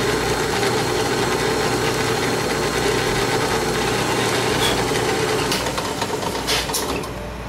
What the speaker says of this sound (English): come down and drill it a little deeper, very slowly, little bits at a time